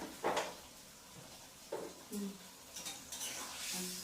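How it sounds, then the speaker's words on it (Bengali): Spices and Kashmiri chili frying in an iron wok, with a few soft bursts of sizzling and stirring scrapes spaced out against a quiet kitchen background. "এই যে মশলাটা ভাজা ভাজা হচ্ছে"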